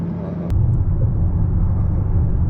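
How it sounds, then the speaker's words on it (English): A deep, steady engine rumble from a street-tuned car driving at part throttle, heard from inside the cabin, with a brief click near the start and a loud, even drone throughout. "I don't know if you guys can hear in the video how crisp the shifts are at part throttle"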